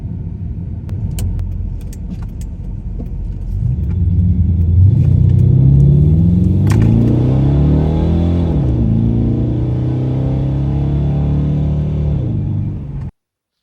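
A Chevrolet Impala with an oil leak drives along, its engine giving a steady close rumble that swells as it accelerates, then holds an even cruise before cutting off abruptly.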